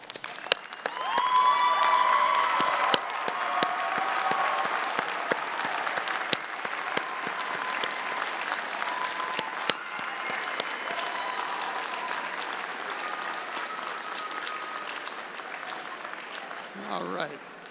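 Graduates applaud their loved ones at a law school commencement in Carnegie Hall, a broad, sustained roar of clapping with scattered cheers that swells early and then holds steady before trailing off.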